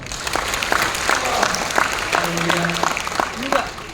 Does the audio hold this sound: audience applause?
yes